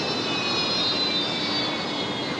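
An airliner approaching to land on runway 19 left at Brisbane Airport at night: a steady, broad jet roar with a thin high whine, holding fairly level throughout with no voices.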